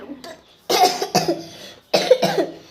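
A person coughs three times in close, sharp bursts, one single and then a paired cough, after a faint lead-in.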